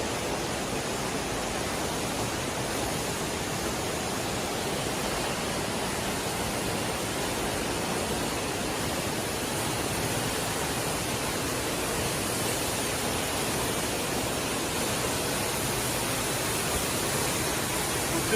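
Steady, dense rushing water of a waterfall in rural Enshi County, Hubei Province, China roars continuously at close range, a broad hiss of falling water with no pauses or voices.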